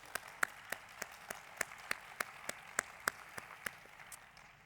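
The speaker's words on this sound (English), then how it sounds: "let's give a round of applause to all of the jury members" Sparse applause from a small audience honoring jury members at an international library marketing award ceremony: a dozen or so distinct, fairly faint claps spaced at a steady, unhurried rhythm, with no voices.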